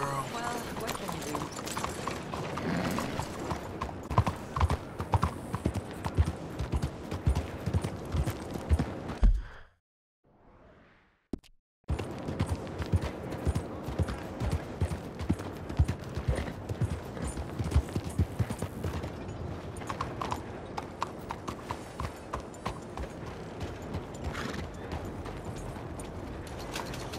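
Steady clip-clopping of horse hooves in a video game at a walking rhythm, loud and close, with a brief near-silent gap partway through and voices talking over it at times.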